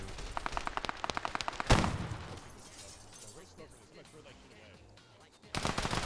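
Bursts of automatic gunfire in Fallout: New Vegas, a rapid string of sharp shots at the start, then a heavy explosive crack and a quieter battle ambience before another loud burst of firing closes it out.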